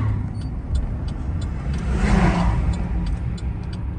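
A car driving along the Blue Ridge Parkway gives a steady, close road and engine rumble throughout, swelling slightly midway as if passing or accelerating, with no talk.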